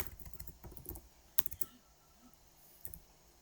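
Quiet typing on a computer keyboard, a cluster of soft key clicks at the start, a couple of sharper taps near the middle and a faint pair of strokes near the end, with no speech.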